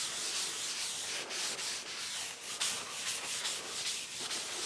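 Solid machine wax is rubbed onto the cast beds of a Jet JPT 310 helical planer thicknesser, a close, continuous hissing scrub with rhythmic back-and-forth strokes and no voices.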